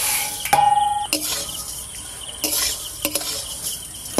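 Vermicelli frying in a pan for payesh, with a faint steady sizzle, a few scraping stirs of a metal spoon against the pan and one clanging knock, close and otherwise quiet.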